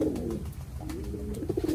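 A mother pigeon, a golden breeder hen, coos in soft low throaty rolls, several repeated calls close by over a faint background, with no talking.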